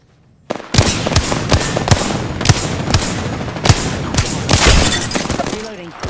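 Apex Legends gunfire erupts in loud, close, rapid bursts after a brief quiet start, with repeated sharp cracks and dense automatic volleys running almost continuously.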